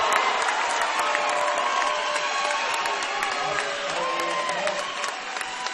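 Crowd noise at a 2014 NJCAA Division II volleyball national championship between Glendale and Parkland: steady applause and cheering fill a gym, with scattered whoops over a continuous bright clatter of clapping.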